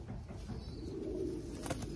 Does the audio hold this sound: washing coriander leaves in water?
no